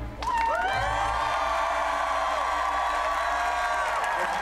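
A large concert crowd cheers loudly, with sustained high screams and whoops rising over a constant roar that holds steady throughout.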